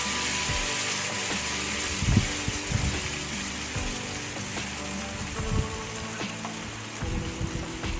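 Tomato paste sautés in a pan for banana stem rasam, giving a soft, continuous sizzle with occasional louder crackles and a few light taps scattered throughout.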